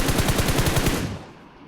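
Rapid automatic gunfire in PUBG, a steady burst of about a dozen loud, evenly spaced shots that stops abruptly and leaves a fading tail.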